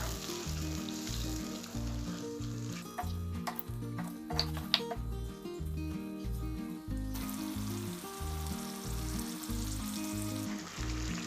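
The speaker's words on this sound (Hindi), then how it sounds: "इनको मैं अच्छे से भून लूँगी" Tomatoes and yogurt fry in a pan for an aloo gosht curry, a steady close sizzle with occasional stirring clicks, over a pulsing low background tone.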